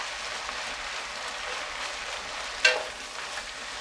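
French onion soup onions cook over high heat while being stirred, a steady close sizzle and crackle with soft scraping, broken by one sharp clink of the utensil near the end.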